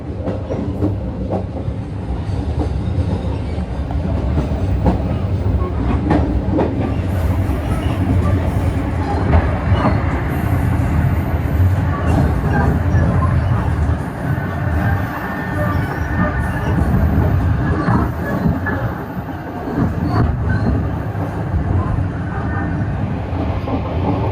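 Steady rumble and rattling clatter of a Kahuripan economy train running through Solo Balapan station without stopping, heard from inside the carriage, continuous and fairly loud throughout.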